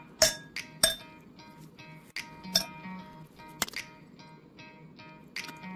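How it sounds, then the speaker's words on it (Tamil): A few ice cubes clink and knock into a glass while a gin and tonic is being made, giving sharp separate chinks in an irregular rhythm, close and clear, with no talking. "2-3 ஐஸ் கியூப் போட்டுக்கோங்க நண்பா."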